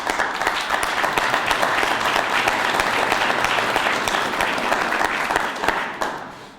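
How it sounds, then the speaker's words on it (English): A press conference crowd gives a dense, sustained round of applause for the police department, steady and full before fading out at the end. "just deserves a terrific round of applause"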